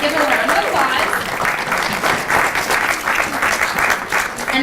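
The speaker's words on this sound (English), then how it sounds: "let's give him a round of applause" Lively room applause for a restaurant sponsor of Zorbas Taverna at an evening event, dense clapping from a crowd, close and sustained, with a few voices underneath.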